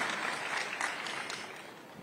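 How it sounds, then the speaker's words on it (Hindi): An audience greets a guest minister with applause, a short burst of steady clapping from a crowd that holds evenly for about two seconds. "जोरदार तालियों से स्वागत कीजिए"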